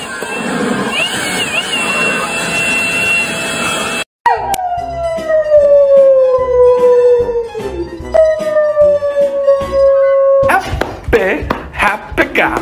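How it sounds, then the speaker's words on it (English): A happy dog howls in long, sliding drawn-out cries that rise and fall, loud and close, after a stretch of mixed noise, with voices around it. "Oh, the happy dog."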